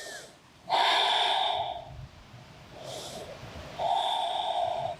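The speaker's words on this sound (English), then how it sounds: "Breathing deeply right here." A person doing yoga takes deep breaths, with two long noisy inhales through the nose and a softer exhale between them. The breathing is close and clear, with no talk.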